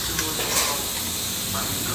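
Turmeric, chimichurri, lemongrass, crushed garlic and annatto sizzle in a pan for a shrimp bobó, a steady close hiss with faint stirring scrapes throughout.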